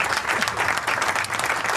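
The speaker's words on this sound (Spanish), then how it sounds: "Le pedimos un fuerte aplauso para él" An audience claps loudly and steadily in a short burst for a guest, the CGT Regional Lanús youth secretary, at an interview event.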